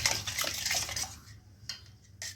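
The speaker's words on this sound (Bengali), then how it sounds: "এগুলো দিয়ে ভালোভাবে আমি দইটাকে ফেটিয়ে নেব।" Yogurt mixed with sugar and salt is whisked in a bowl for soft dahi vada, making quick, close clinking and scraping strokes that thin out into a few separate taps.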